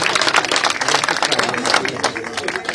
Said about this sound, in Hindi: जोरदार तालियों से अभिनंदन और स्वागत।